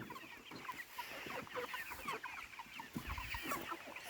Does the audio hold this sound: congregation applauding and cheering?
no